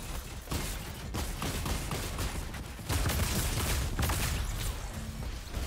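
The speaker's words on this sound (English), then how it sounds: "Who is shooting at me?" Rapid bursts of gunfire in the video game Fortnite, a dense stream of sharp reports crackling steadily throughout, fairly close and loud with no talk over it.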